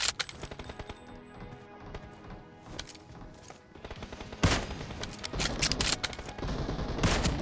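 Gunfire in the mobile shooter BGMI during a team deathmatch, sharp single shots and rapid automatic bursts, sparse at first and then dense and loud in the second half.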